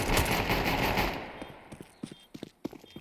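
Automatic rifle spraying in Counter-Strike, a rapid burst of gunfire for about a second, then scattered fainter shots and clicks.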